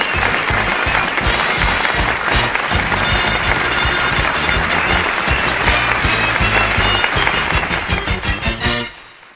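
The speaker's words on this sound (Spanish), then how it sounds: "se ganaba la ovación del público" Loud, sustained audience applause at a circus show, dense clapping with a few rhythmic bursts that carries steadily for about nine seconds, then fades out at the end.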